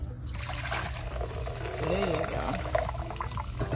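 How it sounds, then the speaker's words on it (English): Root beer pours into a bowl with a steady trickle and fizz, close by, while people talk over it. "let's take that and pour it into this bowl"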